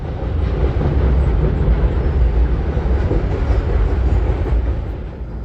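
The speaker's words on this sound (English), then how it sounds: "The train is crossing the beautiful Harpursville Trestle" An intermodal and trash freight train rolls across the Harpursville Trestle in a steady, continuous rumble with wheel noise, holding loud throughout before easing slightly at the end.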